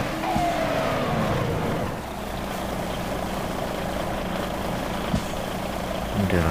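A Kenworth T800 truck engine running in Grand Truck Simulator, a steady, loud, low drone that dips slightly partway through, with a brief knock near the end and someone talking over it.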